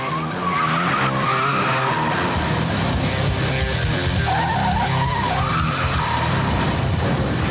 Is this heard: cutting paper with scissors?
no